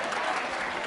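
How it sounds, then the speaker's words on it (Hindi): Audience clapping at a school quiz show for Navratra, a brief dense burst of applause from a crowd, even and loud throughout. "तालियां जोरों से बजाइए यागिनी के लिए।"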